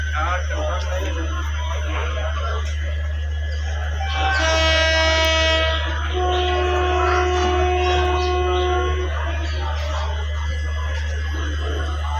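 People chatter over a deep steady engine hum at Ajmer railway station, and a long, tonal train horn sounds in the middle before fading out.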